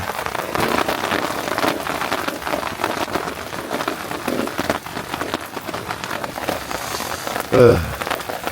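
Steady rain patters on leaves and surfaces in a dark forest campsite, continuous and fairly close, with a brief louder knock near the end.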